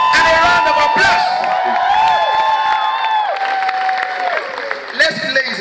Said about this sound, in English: rate our keynote speaker, Mr. Gbenga Totoyi, with a sound and a round of applause.